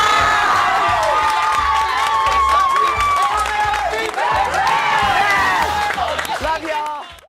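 A New York morning-TV studio audience screams and cheers at full volume, a dense, steady crowd roar with shrieks and whoops, dropping away sharply at the very end.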